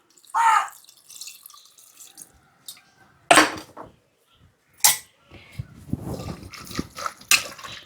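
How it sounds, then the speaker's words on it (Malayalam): Small splashes of water go into a pan in a home kitchen during cooking, with a few brief pours and drips separated by quiet gaps, followed by a softer stretch of low clatter. "കുറച്ച് വെള്ളം ഒഴിക്കുക."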